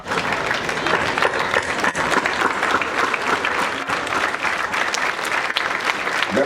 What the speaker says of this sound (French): applaudir très fort les parents d'élèves